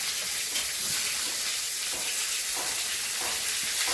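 Dried chilli, bay leaf, panch phoron and chopped onion sizzle in hot oil, making a loud, continuous close-up frying hiss with faint stirring scrapes and no talking.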